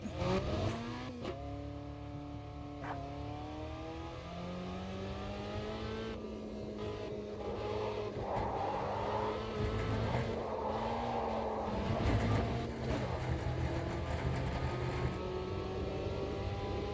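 A race car in the Automobilista 2 racing game laps a track, its engine loud and continuous, revving up through the gears with rising and falling pitch sweeps and no talk.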